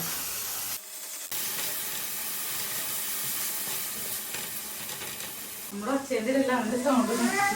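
Banana pieces frying in a hot pan, a steady loud sizzle that runs nearly unbroken, with a brief dip early on, and voices talking over it toward the end.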